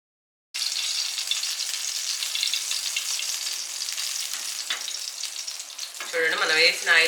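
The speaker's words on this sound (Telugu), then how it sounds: "అటు సైడ్ ఇటు సైడ్ మంచిగా ఒక 5 మినిట్స్ పెట్టేసుకొని చేపను మంచిగా ఫ్రై చేసుకోవాలి." A whole large fish fries in shallow oil, cutting in abruptly with a bright, dense crackling sizzle that holds steady and swells near the end as the fish is shifted in the pan.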